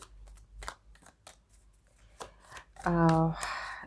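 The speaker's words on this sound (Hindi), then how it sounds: "पहले मैं कार्ड्स निकाल लेती हूँ, उसके बाद हम बात करते हैं आगे की।" Tarot cards are shuffled and drawn by hand in a series of crisp, close flicks and riffles, ending with a short ringing tone and a denser burst of card noise.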